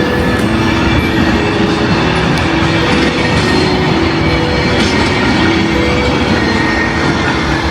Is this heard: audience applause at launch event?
no